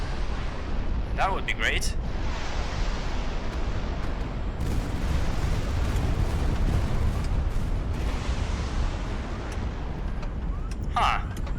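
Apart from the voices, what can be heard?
A220 rockets flying in, from the video game HighFleet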